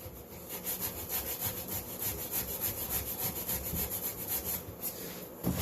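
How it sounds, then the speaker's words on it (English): Sandpaper of 180 grit rubbing across a glued wood seam, a close, quick rhythmic scratching of steady back-and-forth strokes with no talk. "I like to take like a 180 grit and just kick up a little sawdust"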